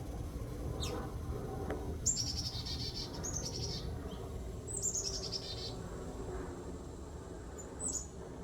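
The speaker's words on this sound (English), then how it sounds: "A little chickadee up here." A chickadee in a Texas Gulf Coast backyard garden gives several high, thin call notes in short clusters over steady outdoor background noise, with other birds faintly around.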